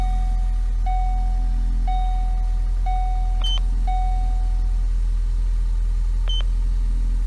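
A car engine idling with a steady low rumble during a key-on engine-running diagnostic test, while a regular electronic beep repeats about once a second and a couple of higher chirps sound.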